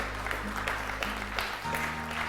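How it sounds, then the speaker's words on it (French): A church congregation claps and cheers loudly for the Lord during a sermon, sustained applause with bright clap transients over a steady low hum from the hall's sound system. "On peut acclamer très fort pour notre Seigneur"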